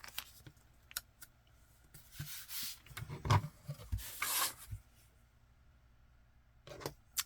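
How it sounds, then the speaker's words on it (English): Scissors cutting a strip of masking tape in half, a faint close-up sequence of rubbing snips and tape rustle in a quiet room, with a few soft handling clicks before and after. "And while we got the masking tape out, let's cut it in half."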